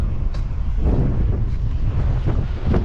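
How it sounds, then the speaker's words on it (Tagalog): Strong wind in Biliran buffets the microphone in gusty, low rumbling bursts, loud and close, with no voices. "sarap ng hangin dito, sir"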